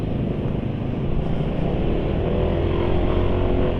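A Suzuki motorcycle engine revs under throttle, a steady loud low rumble that holds without dropping off, with wind noise over the microphone.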